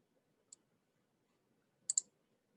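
Computer mouse clicks sound crisp and close in a quiet room: one single click, then a quick double click about a second and a half later.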